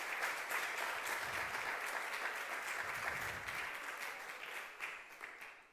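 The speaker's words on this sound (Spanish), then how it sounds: "Denle un aplauso al Señor si se lo va a dar." Sustained applause from a church congregation fills the space, a dense even clapping that holds for several seconds before tapering off at the end.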